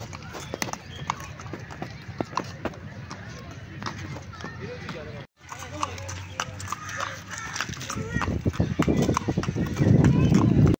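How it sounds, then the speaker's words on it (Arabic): Horse hooves clip-clop in a steady, quick rhythm during a horse ride through a public park in Rawalpindi, close by and continuous under someone talking, growing louder toward the end. "ممتع في ركوب الخيل ما شاء الله."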